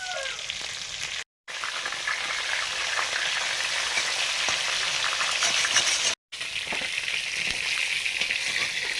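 A fish head fries in hot oil in an iron wok, giving a steady, moderately quiet sizzle and crackle that runs continuously with no talking.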